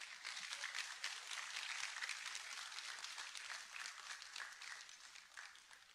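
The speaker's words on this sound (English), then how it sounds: "Let's give her another round of applause." An audience gives a faint, distant round of applause after a talk, a steady soft patter of many hands clapping that continues for several seconds without speech.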